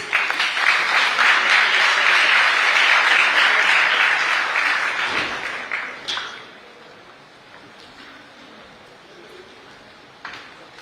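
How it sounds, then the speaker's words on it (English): Audience applause at an IT, electronics and communication market access expo in Goa, loud and dense for about six seconds, then quickly fading to scattered claps and a low room murmur. "A big round of applause, please."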